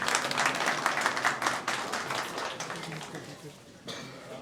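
Applause at a tax bar association oath-taking ceremony, a crowd clapping fairly loudly at first and then gradually thinning and fading, with voices in the room underneath.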